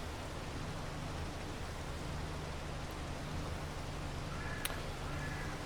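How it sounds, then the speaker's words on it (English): Steady rain falls in the Farming Simulator 22 video game, a dense, even hiss of noise that runs unbroken throughout with a faint low rumble beneath and one tiny click near the end. "And it's raining. Here comes the rain, gang."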